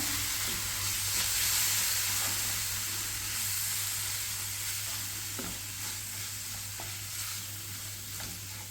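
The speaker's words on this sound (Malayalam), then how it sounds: "ടൊമാറ്റോ സോസ് ചേർക്കാം നന്നായി ഇളക്കി യോജിപ്പിക്കാം" Radish curry with tomato sauce sizzles in a frying pan as a spoon stirs through it, steady frying hiss with soft scraping touches, close and alone.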